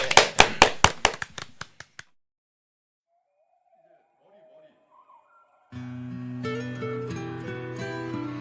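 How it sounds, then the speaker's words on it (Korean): A short burst of hand clapping in a Korean TV studio before a singer's song: about a dozen crisp, evenly spaced claps that fade out within two seconds, then silence, then music begins. "박수로 청해 듣겠습니다"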